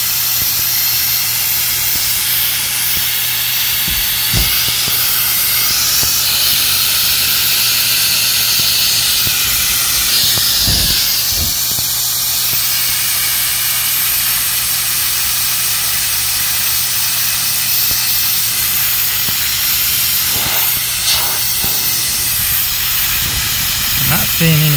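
Propane gas hisses steadily from an opened valve while a Flame King propane bottle is refilled, a loud continuous rush lasting throughout with a few faint clicks and knocks on top.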